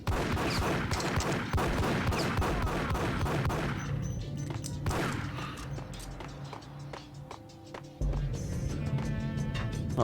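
Gunfire in the video game Max Payne comes as rapid bursts of sharp shots, then scattered single cracks and impacts mixed with game effects, fairly close and loud.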